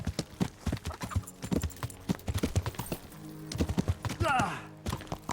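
Horse hooves clip-clopping on hard ground in the video game Kingdom Come: Deliverance, a quick, uneven run of sharp hoofbeats close up, with a brief rising swish near the end.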